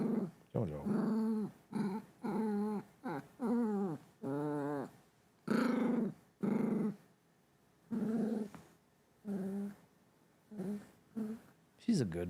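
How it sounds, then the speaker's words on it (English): A crying puppy whimpers and yelps in a string of short, close, fairly loud bursts with brief gaps, heard alone over roughly twelve seconds. "I gotta wrap this up because the puppy is crying"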